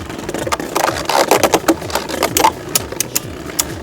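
VISE Leopard and Revive Phoenix Beyblades battle in a stadium, with rapid rattling clicks and grinding collisions that come in loud, dense bursts.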